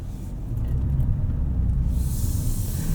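Low, steady road rumble and engine drone from a 2025 Mazda CX-70 3.3 Turbo S Premium Plus crossover driving on the road, heard from inside the cabin, with a brighter hiss rising near the end.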